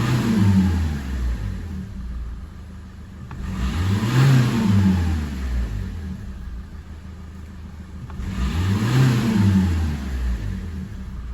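A Nissan/Renault 1.5 dCi diesel engine, just fitted with a new EGR valve, is revved from throttle snaps while parked: two loud rising-and-falling rev swells about five seconds apart over a steady idle rumble, close up and without talk.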